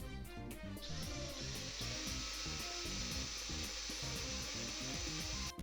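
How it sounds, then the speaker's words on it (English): A small high-pitched drill bit whines steadily and close up, drilling into a Matchbox Superfast Ford Escort Mk2 RS2000 model car, running continuously over a background of rhythmic mechanical thumping. "I'll use the same size drill anyway"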